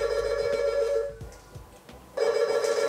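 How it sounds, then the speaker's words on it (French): A telephone rings with a steady electronic tone. The ringing sounds, breaks off for about a second, then starts again, loud and close, with no talking over it. "Alors, téléphone."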